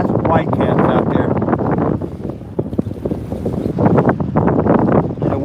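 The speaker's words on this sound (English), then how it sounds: "we're getting gusts close to 30 probably" Strong wind gusts near 30 buffet the microphone in loud, rushing surges over choppy, whitecapped lake water in icy conditions, with a voice talking underneath.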